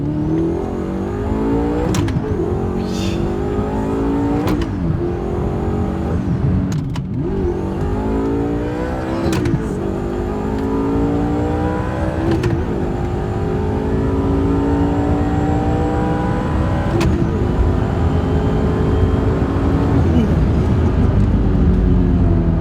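A car laps the Mantorp Park race track on a trackday, its engine loud and close, droning steadily and rising in pitch through repeated gear changes, with no voices over it.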